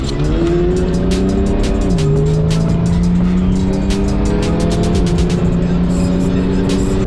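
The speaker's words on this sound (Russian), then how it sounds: "Леха, ну он очень мощно едет." A powerful BMW accelerates hard, its engine note rising in a loud, sustained roar through the gears with a brief dip at a shift, heard close from inside or beside the car.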